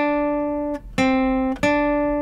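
Guitar sounding a major second interval as three plucked notes in a row, each ringing clearly and sustaining before the next, alone with no voice.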